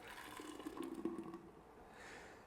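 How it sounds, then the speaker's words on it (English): Cucumber soup pours from a kitchen vessel into a pitcher, making a soft, steady liquid gurgle and splash that runs for a couple of seconds and tapers off, fairly close and quiet. "I'm going to pour this perfection into a pitcher."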